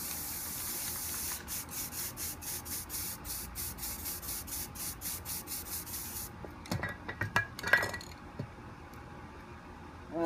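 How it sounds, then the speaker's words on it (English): Repeated short hisses from a spray can in quick regular bursts, followed by a few louder, longer sprays and some faint rattling. "we're gonna spray green and black."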